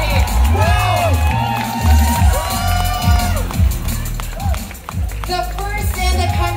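A crowd claps and cheers at the Philippine launch of a 5G phone from Globe and Huawei, mixed with loud music with heavy bass thumps, voices and shouts rising over the noise throughout.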